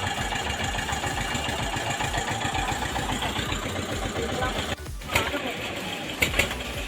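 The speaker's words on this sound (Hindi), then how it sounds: "वो ट्रैक्टर की आवाज़ है ज़्यादा आवाज़।" A tractor engine runs steadily at a rapid idle-like chug throughout, fairly loud and close, with a brief dip and a couple of clunks near the end.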